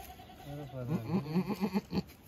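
A goat kid bleats in a rapid series of short, wavering cries, close and clear, with a quieter voice briefly underneath.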